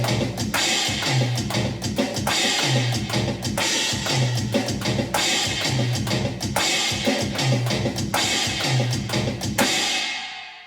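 Drum kit groove played across rack tom, floor tom and china cymbal in a repeating linear pattern at slow tempo, close and loud, with trashy china crashes punctuating the tom hits before ringing out at the end.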